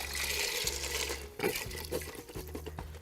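Chicken broth poured into an Instant Pot over macaroni, a close, continuous liquid splash and gurgle with brief pauses and a low mechanical hum beneath.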